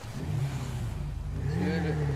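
A motorbike engine in a GTA video game revs up and holds a steady drone, with a voice talking over the engine noise.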